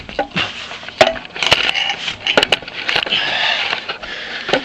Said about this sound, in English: Go up the little ladder, which will probably change at some point, and then push the door open.